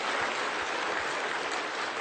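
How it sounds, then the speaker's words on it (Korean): Congregation applauding in a Korean church service at Incheon Full Gospel Church, a dense, steady wash of many hands clapping throughout, fairly loud and continuous with no voices over it. "박수합시다."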